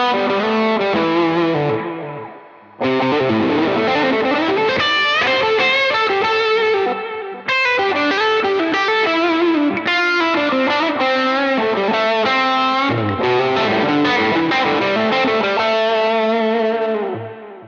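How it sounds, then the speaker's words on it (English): Electric guitar on its bridge pickup, played through a Hippie Drive overdrive pedal with the voice knob set back for more low end and body, giving loud, sustained overdriven chords and melodic lines with short pauses between phrases. "This tone really shows how well the Hippie Drive adapts across different guitars and pickup types."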